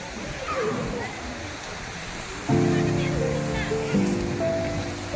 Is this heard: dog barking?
no